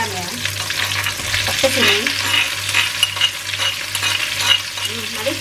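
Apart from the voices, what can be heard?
frying ground shallots and garlic in a pan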